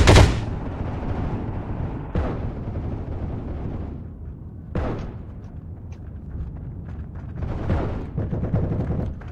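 Gunfire strikes walls in the video game Heroes & Generals: loud, sharp shots and impacts, with a big blast at the start, then separate bursts every couple of seconds over a rumbling battle backdrop.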